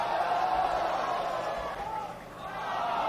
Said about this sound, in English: you're hearing a cheer right now